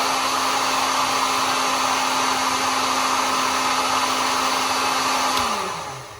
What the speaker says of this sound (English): you're just going to take your heat gun or your lighter, and you're going to heat that up so that it conforms to the threaded rod